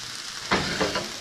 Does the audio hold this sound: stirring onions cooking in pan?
yes